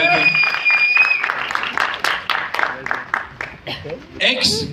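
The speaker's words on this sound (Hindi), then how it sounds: "Ladies and gentleman, Yashpal Sharma साहब के लिए जोरदार तालियां।" An audience claps for actor Yashpal Sharma at a film trailer launch event, a burst of scattered applause underneath an announcer talking loudly.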